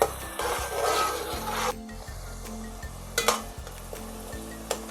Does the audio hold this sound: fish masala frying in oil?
yes